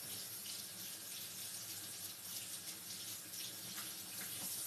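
Tap water runs steadily into a kitchen sink while peppers are rinsed for a sausage and peppers dish, a continuous close hiss with no talking.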